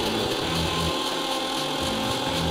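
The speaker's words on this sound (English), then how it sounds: "And now I'm going to grind this." Mint and green chili chutney with kala namak and lime juice is ground in a kitchen grinder, giving a steady, loud, continuous whirring and grinding hum that runs unbroken throughout.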